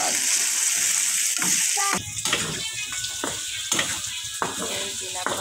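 Potatoes fry in a hot pan with a steady, loud sizzle, broken by repeated stirring scrapes and clatters against the pan throughout.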